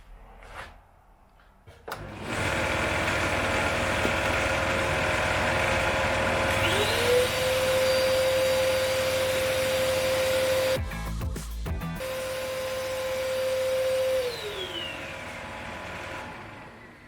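A lathe motor whirs up while sanding a pen, holds a steady high whine for several seconds, briefly cuts out, then resumes and winds down, with faint scraping underneath.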